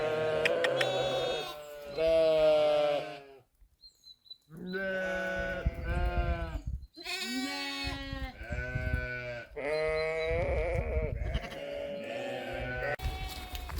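Sheep bleat repeatedly and loudly close by, their calls overlapping in uneven bursts with brief gaps between them.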